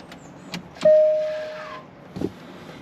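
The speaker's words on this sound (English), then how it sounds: "that's me putting the parking brake on" Electric parking brake on a Range Rover Sport with a parking brake fault engaging: a few soft clicks, then a steady motor whine that builds and fades over about a second, followed by a muffled thump.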